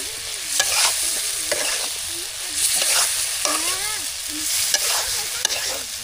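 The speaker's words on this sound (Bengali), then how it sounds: "কলাগুলো এখন আমরা এই যে মশলা যে ভেজে নিলাম এর মধ্যে ঢেলে দিলাম" Green cooking bananas are stirred into spices frying in a pan in a village kitchen, with repeated scraping spatula strokes over a steady sizzle, close and fairly loud.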